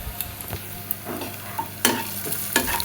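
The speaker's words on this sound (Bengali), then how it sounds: "এখন এতে হালকা একটু লবণ দিয়ে দিলাম, যাতে পেঁয়াজের ভিতরে লবণটা ঢুকে এবং পেঁয়াজটা খুব ভালো মতো ভাজা হয়।" Onions sizzling as they fry in a pan with a pinch of salt for a breakfast dish, a close continuous crackle with a few sharper spatters and stirring scrapes, and no talk.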